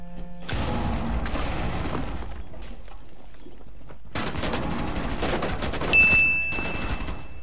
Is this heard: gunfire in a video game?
yes